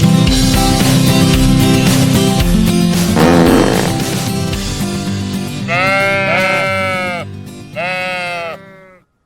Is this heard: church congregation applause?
no